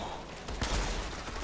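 A sharp gunshot cracks out in the video game Outriders, followed by a short echoing tail and a second fainter report, heard close through headphones.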